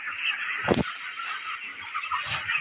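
Broiler chickens in a poultry shed, about 26 days old, keep up a dense, steady flock chatter with a brief louder squawk or flutter near the middle. No one speaks.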